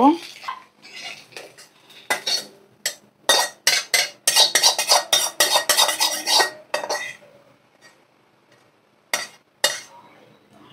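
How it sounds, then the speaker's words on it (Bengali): A spoon clatters and scrapes against a pan as fried egg is stirred into pasta, with bursts of rapid metallic clinks separated by brief pauses, close and loud, no talk. "ভাজা ডিমটা আমি পাস্তার মধ্যে দিয়ে দেব।"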